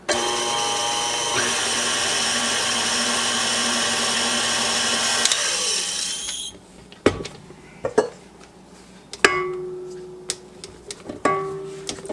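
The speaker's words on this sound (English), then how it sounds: "I'm just going to put it on low because I just want to blend it." A blender whirs on low speed through no-carb bread batter for about six seconds, a steady close hum, then stops, followed by clinks and knocks of the jar and utensils.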